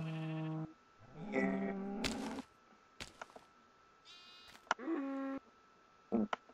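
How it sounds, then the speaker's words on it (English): Sheep bleating in the video game Minecraft, several short wavering bleats in a row, close and clear against near silence, with a few sharp clicks between them. "We have sheep, so we'll have some good wool."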